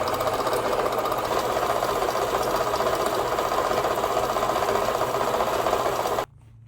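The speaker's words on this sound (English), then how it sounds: "First thing I need to do is go ahead and cut this to a rough length on the bandsaw." Bandsaw cutting mild steel bar to rough length, a continuous close grinding buzz with a rhythmic mechanical chatter that runs steadily, then cuts off abruptly near the end, leaving near silence.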